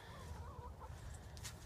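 Chickens cluck softly inside a solar-powered chicken coop, a few quiet, wavering calls over a low steady hum, with no one talking.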